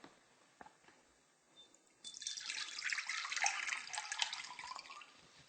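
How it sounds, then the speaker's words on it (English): Water poured off sprouting seeds in a jar through a screen lid, a steady splashing pour starting about two seconds in and running to the end, fairly close, with faint dripping and handling noises before it. "just by pouring off the water"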